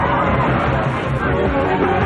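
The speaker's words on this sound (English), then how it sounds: "this peaceful crowd turns into an angry mob bent on revenge" A crowd of protesters turned angry mob, a dense roar of shouting and overlapping voices, loud and continuous.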